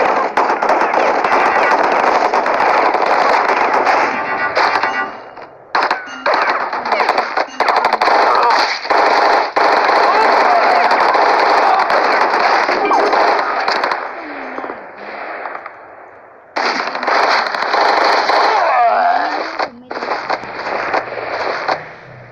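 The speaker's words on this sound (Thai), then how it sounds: "เกมอะไรไม่รู้ว่าเป็นเกมยิงปืน" Continuous rapid gunfire and explosions from a shooting video game, loud and dense with brief gaps, with in-game radio callouts and someone talking over the action.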